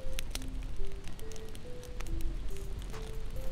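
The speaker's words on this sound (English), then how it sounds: "It's like pop, crack, pop, pop, pop, crack, pop, pop." Dry leaves burning outdoors, a dense crackling and popping fire with sharp snaps scattered through a steady hiss, close by, alongside a faint repeating tonal pattern and no clear talk.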